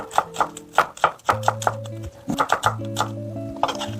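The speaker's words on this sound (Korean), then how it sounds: "양파 뿌리 부분 붙어 있는 거 제거하시고요. 또 얇게 채 썰어 주세요." An onion thinly sliced with a kitchen knife, quick rhythmic chops on a board repeating several times a second, with music playing underneath.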